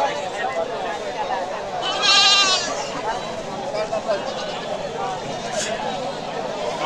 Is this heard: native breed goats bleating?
yes